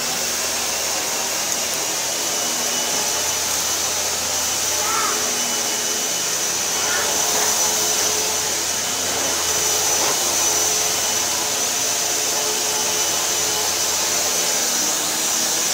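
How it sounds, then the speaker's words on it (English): A Hoover Empower upright vacuum cleaner runs steadily and loudly up close, a constant high whine and airflow roar with slight shifts as it moves. "He's a vacuum y'all ain't seen before."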